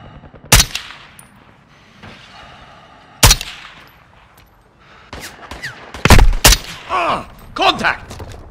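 Enemy gunfire in Call of Duty: sharp, loud rifle shots crack at irregular intervals, separated by quiet stretches, then a denser cluster of shots near the end with whizzing and mechanical sounds mixed in, with radio-style voices in between.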